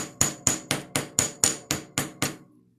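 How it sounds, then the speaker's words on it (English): A small mini texturing hammer strikes the edges of a metal flower pendant in nine crisp, evenly spaced metallic taps, each ringing briefly before the next, close and clear with no talking. "It's a texturing hammer, but it's like a little mini one."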